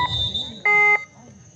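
A single loud electronic timeout buzzer sounds for about a third of a second at a floodlit night kabaddi match, following a commentator's voice over the loudspeakers.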